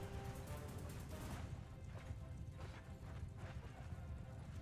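Horse hooves clatter in a dense, continuous clip-clop during a battle in the video game Mount and Blade 2: Bannerlord, mixed with a loud, busy wash of combat noise and crashing impacts, with no voices.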